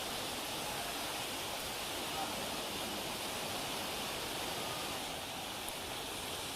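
A powerful floodwater current after heavy rain roars as a dense, unbroken rush, loud and steady throughout with no pauses or distinct splashes.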